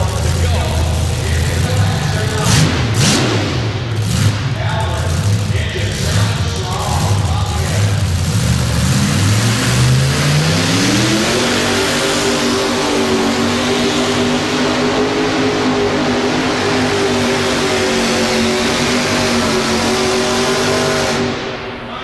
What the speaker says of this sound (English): good strong run, and Calvert shuts it off right there after making his run